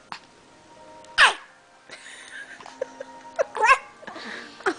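A baby animal cub gives a sharp little sneeze, followed a couple of seconds later by a second, softer sneeze and a brief squeak, with faint rustling between them.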